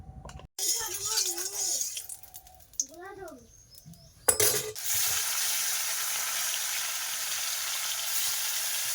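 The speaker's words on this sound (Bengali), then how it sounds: "এই এখন মাছ ভাজবো" Voices talk over quiet kitchen sounds, then fish rubbed with salt and turmeric drops into hot oil and a loud, steady sizzle of frying takes over.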